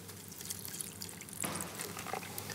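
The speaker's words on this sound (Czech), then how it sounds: "Přidáme taky trochu vody." Water is poured into a blender holding pineapple and fresh mint for a smoothie, a close splashing trickle that swells into a fuller pour halfway through.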